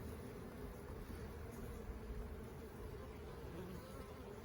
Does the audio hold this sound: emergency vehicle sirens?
no